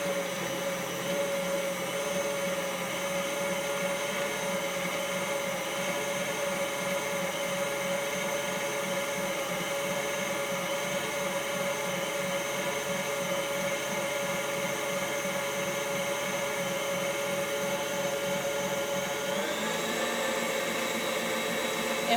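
An electric mixer whips Swiss meringue in a bowl with a steady motor whine that holds for the whole stretch, then rises in pitch near the end as the speed goes up, with no voices.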